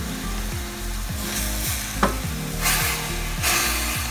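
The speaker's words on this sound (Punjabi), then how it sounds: "ਇਹਨੂੰ ਕੜਾਹੀ ਦੇ ਵਿੱਚ ਪਾ ਕੇ ਇਹਨੂੰ ਭੁੰਨਾਂਗੇ ਚੰਗੀ ਤਰ੍ਹਾਂ" Apple pieces roast in a wok over medium heat while being cooked down for jam, giving a steady close sizzle and frying crackle with a regular scraping stir every half second, plus one sharp knock near the middle.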